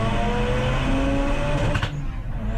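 A Mazda RX8 race car in a Track Attack race at Snetterton roars loudly and continuously as it comes through on track, its engine note sweeping past close by before easing slightly.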